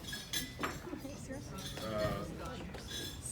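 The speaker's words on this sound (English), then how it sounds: "if everyone would please join me in raising a glass" Glasses clink together in a few light, scattered taps during a wedding toast, under a steady murmur of guests talking.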